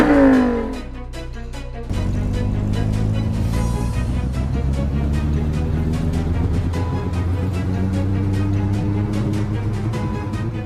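A 2025 Lamborghini Revuelto engine revs up hard, its roar climbing steadily in pitch after a brief lull and holding loud and close throughout.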